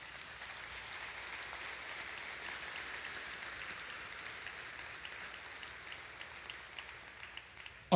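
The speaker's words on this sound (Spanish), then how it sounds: "Denle un aplauso al Señor." A church congregation applauds during a sermon on grieving a loved one, a steady, fairly faint wash of many hands clapping that holds evenly throughout.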